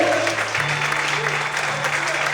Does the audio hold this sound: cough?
no